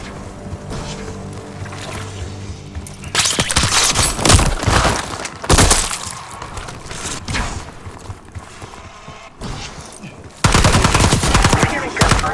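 Bursts of rapid automatic gunfire in Call of Duty: Black Ops 6, loud and close, in repeated volleys separated by brief pauses, with mechanical clatter between them.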